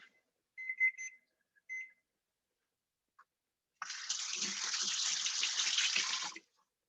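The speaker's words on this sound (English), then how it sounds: "Let me rinse my hands." Water from a kitchen tap runs steadily for about three seconds as hands are rinsed during vegan chiles rellenos cooking, preceded by a few faint clinks, quiet and close.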